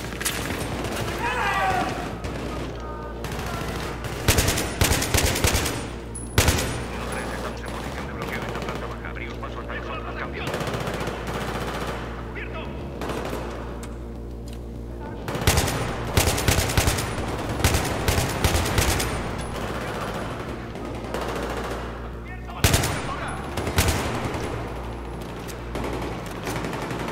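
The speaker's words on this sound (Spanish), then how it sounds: "¿De dónde vienen los tiros?" Bursts of rapid gunfire and heavy booms recur throughout, loud and close, with sustained shooting between the louder volleys, in a firefight in the hotel mission of the Battlefield 3 campaign on PC.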